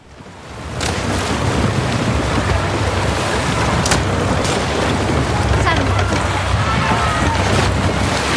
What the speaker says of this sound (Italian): andiamocene a remi per l'Oceano Atlantico